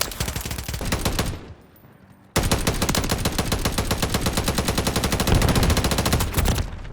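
Sustained rapid automatic gunfire from a high fire rate gun in Modern Warfare III, a dense loud burst that stops briefly and then resumes as a long continuous stream of shots.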